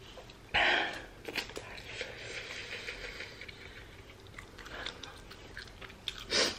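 Open-mouthed chewing of extremely spicy noodles close to the mic, wet smacking and crunching bursts scattered over several seconds with loud spikes at the start and end.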